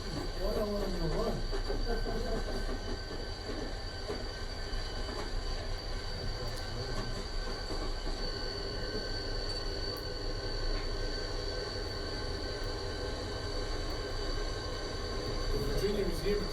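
A train rolls along the Roanoke Belt Line owned by the Virginia Museum of Transportation, a steady loud rumble with squealing wheels and hiss, and a voice is heard over it at times.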